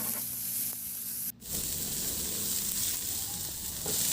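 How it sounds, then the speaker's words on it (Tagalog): Garlic and onion sauté in oil in a pan with a loud, steady sizzle up close, briefly cut off by a short gap before resuming, with light stirring scrapes underneath. "igisa ko na rin yung bawang. Ilagay ko na rin yung sibuyas."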